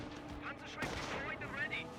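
Gunfire in a World War II battle in the strategy game Company of Heroes, a sharp shot cracking out amid faint distant firing, under quiet talk.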